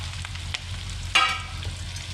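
Drumsticks drop into a curry frying in a pan, setting off a steady close sizzle with a brief louder hiss as they hit the hot oil.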